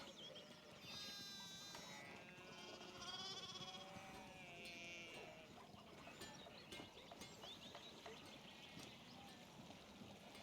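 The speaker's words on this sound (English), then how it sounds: "There are sheep in the way in every direction." Sheep bleat repeatedly in the video game Pentiment, several wavering calls overlapping at mid distance over a steady pastoral ambience with faint clip-clop, continuing throughout without speech.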